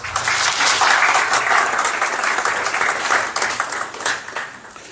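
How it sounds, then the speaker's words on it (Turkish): Loud audience applause for a newly elected association board at a meeting swells quickly, peaks early and then gradually thins out over several seconds. "Yeni kur, yönetim kurumu için de bir alkış rica ediyorum sizden."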